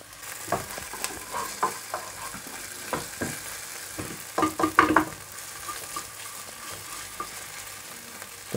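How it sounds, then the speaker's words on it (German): Tomato paste sizzles and roasts in a pot with diced bacon for a white bean stew, a steady frying hiss broken by scraping stirs and a cluster of spoon clinks. "Dann kommt das Tomatenmark dazu. Und wird mit angeröstet."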